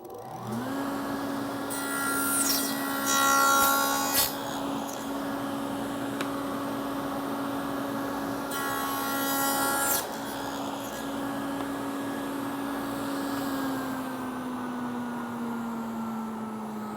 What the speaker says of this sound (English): I'm going to use this to cut my first tenon